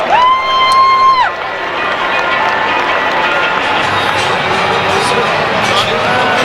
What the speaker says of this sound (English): As the Mets faithful here go crazy.